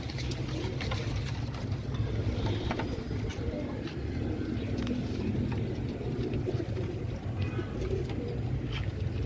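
Caged pigeons coo softly and steadily against a dense, continuous background hum, with low murmuring calls overlapping throughout.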